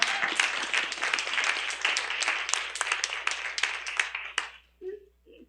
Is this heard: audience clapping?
yes